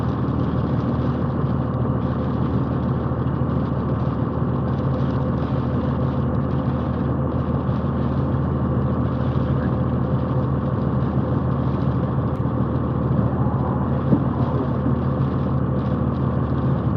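Highway traffic hisses in a steady, unbroken roar during a storm, a dense rumble of engines and tyres with no breaks and no talking.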